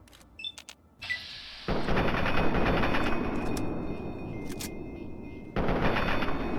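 Heavy gunfire from Fallout 3 erupts after a few sharp shots, becoming a loud, dense, sustained stream of automatic fire, with a brief lull and then another burst near the end.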